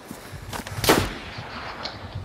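A single loud gunshot-like crack in a military shooter video game, with a sharp burst at about one second, then a fainter distant pop, over low background noise with no speech.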